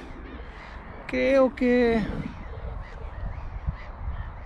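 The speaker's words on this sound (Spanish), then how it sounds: "Esos pajaritos son bien interesantes." Crows give a pair of loud, harsh caws close together, standing out over a soft outdoor background, with a person speaking briefly nearby.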